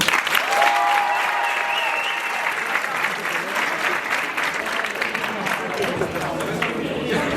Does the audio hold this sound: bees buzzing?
no